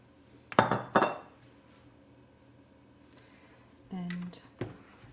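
A cooking pot on a home stove clinks twice sharply as oil is poured in for split pea soup, then a quiet sizzle and another metallic tap follow under faint room hum.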